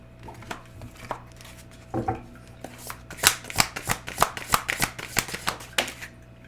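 A tarot deck is shuffled and handled, starting with a few soft taps and then building into a rapid run of crisp card riffles and snaps close by.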